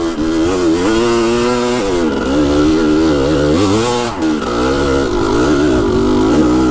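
A dirt bike fitted with a Lectron carburetor climbs a trail hill in second gear, its engine droning loud and close with steady throttle and rising and falling revs throughout.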